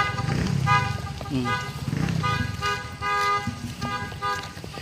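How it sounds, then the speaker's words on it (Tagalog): Several vehicle horns honk in repeated bursts, some long and some short, mixed with engine noise and voices talking nearby. "Kaya po nagtitesting na sila ng busina"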